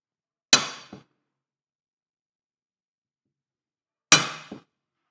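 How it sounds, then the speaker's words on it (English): A center punch is struck twice to mark a hole position on a metal bracket, each a sharp metallic clink followed by a quick lighter tap, the two blows spaced a few seconds apart in silence. "And then we'll take our center punch."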